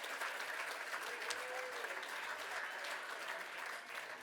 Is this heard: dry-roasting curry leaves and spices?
no